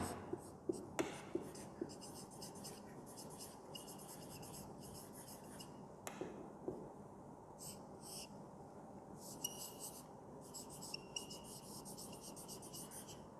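Pen scratching across paper while new vocabulary words are written out by hand, a soft continuous rasp with a few light taps, fairly close over a faint background hiss.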